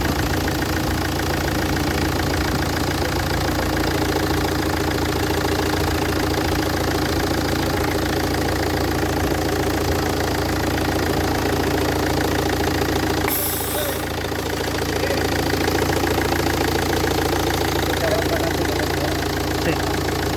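Cold Renault car engine idling with a damaged cylinder head gasket, a steady continuous rumbling drone with a faint knock throughout, with a voice speaking over it.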